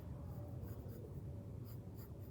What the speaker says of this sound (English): Again, I'm sketching,